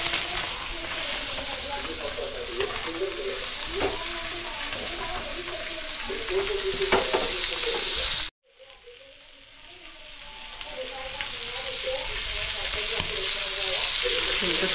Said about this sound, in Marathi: तेलामध्ये आपण मिरच्या टाकल्या